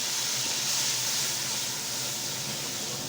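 Spices tipped into a hot frying pan of oil where dried chili and a bay leaf have been frying give a steady, close, loud sizzling hiss that holds evenly throughout.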